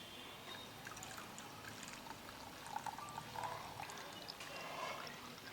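Freshly made coconut milk squeezed and poured through a white cloth, a faint, close trickle of liquid with soft dribbling and splashes throughout.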